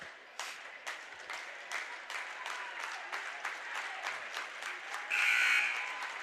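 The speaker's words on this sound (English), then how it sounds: "All of these St. John fans, though, are clapping." Volleyball fans of St. John clapping in a gym crowd at a district championship game, a steady patter of many hands with brief louder swells and a burst of cheering near the end.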